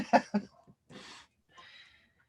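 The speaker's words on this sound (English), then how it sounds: "I coughed a little bit ago." A couple of quick, raspy coughs close up, followed by two softer breathy exhalations, quiet and alone with no talking.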